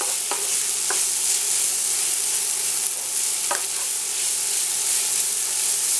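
Greek rice pilaf (rizaki pilafi, confetti rice) cooks in a pan with a steady, close sizzling hiss, broken by a few sharp scraping strokes as it is stirred.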